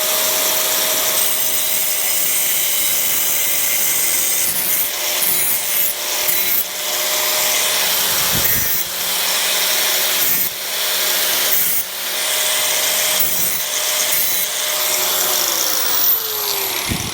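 A power saw trims the bottom edge of a wooden door, a loud continuous rasping whine with short pauses and repeated bursts of cutting, close and without speech.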